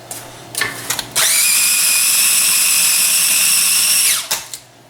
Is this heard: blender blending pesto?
yes